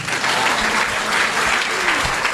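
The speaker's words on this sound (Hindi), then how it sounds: "एक बार इन जुगल जोड़ी के लिए ताली बजाओ।" A crowd at a Bageshwar Dham gathering claps for a couple, a loud, continuous wash of many hands with a few heavier individual claps, close and unbroken throughout.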